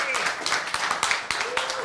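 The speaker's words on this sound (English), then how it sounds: "should we give them a round of applause our again?" Audience applause after an online talk on using Avalanche for pre-consensus on Nakamoto, heard as a short burst of scattered claps, fairly close and moderately loud, with voices speaking over it.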